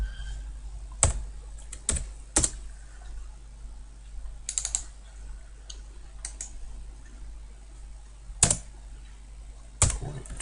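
Typing on a computer keyboard: sparse, quiet clicks of single keys and short bursts, spaced out with pauses in a calm room.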